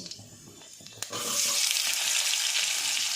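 Potatoes drop into hot oil with panch phoron spices for a vegetarian mixed sabji, turning a quiet crackle into a sudden loud, steady sizzle that continues while they are stirred.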